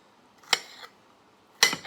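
Kitchen knife chopping an onion into cubes on a cutting board, two sharp distinct knocks of the blade striking the board, the second followed by a short scrape, close and clear with quiet between.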